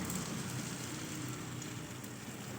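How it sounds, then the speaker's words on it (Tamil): A ladleful of appam batter for Karthigai Deepam fries in hot oil with a soft, dense, continuous sizzle, steady and faint throughout. "ஒரு குளிக்கரண்டி அளவு மாவு எடுத்துக்கலாம் எடுத்து எண்ணெயில் விடணும்"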